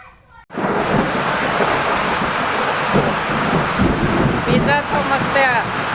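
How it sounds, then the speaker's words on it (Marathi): Heavy rain roars steadily and close in Vadgaon, a dense wash of noise after a brief quiet start, with faint bird chirps near the end. "पाऊस पडतोय वडगावला"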